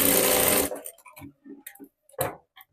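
A strip on a blouse is stitched by a sewing machine in a brief, close whirring burst of under a second, then soft taps and clicks of handling.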